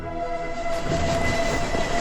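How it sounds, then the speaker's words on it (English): A steam-era passenger train rolls steadily along the rails, its heavy continuous rumble and clatter filling the space at an even, sustained level. "The train had started punctually."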